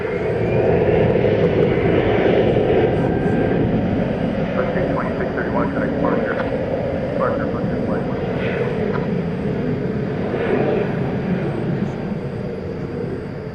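A plane takes off at DFW Airport with a loud, steady jet roar that holds throughout, close by, while a voice speaks over it.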